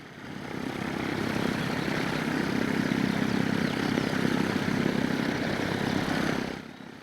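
A courier propeller plane in Air America markings flies over Laos during the Vietnam era, its engine drone steady and loud for several seconds before fading quickly near the end, no voices over it.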